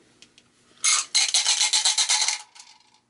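Dice rattle and tumble across a surface during a historical board game, a short burst of clattering rolls that stops before a few quieter clicks.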